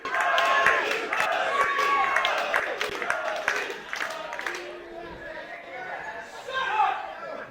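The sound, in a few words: wrestling crowd cheering for Big Ugly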